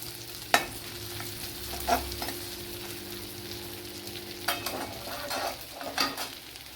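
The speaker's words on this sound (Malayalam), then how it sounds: "ഒരു ആറേഴ് വെളുത്തുള്ളി ചെറിയ പീസ് ഇഞ്ചി ചതച്ചത് ചേർത്ത് കൊടുക്കുക" Six or seven garlic cloves and crushed ginger frying in sesame oil in a pan, a soft, steady sizzle with a few sharp clinks of a stirring spoon, close by and with no talking.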